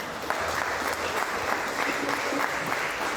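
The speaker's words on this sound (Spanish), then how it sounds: "Denle un aplauso al Señor." A church congregation applauds with steady, continuous clapping, moderately loud and sustained, with faint voices mixed into the crowd sound.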